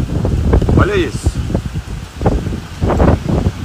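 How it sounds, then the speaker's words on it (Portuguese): Strong wind batters a house, roaring and rustling through leaves and loose objects with gusty, uneven surges, heard under someone speaking excitedly close to the microphone. "Olha o jeito que tá esse vento aqui, ó."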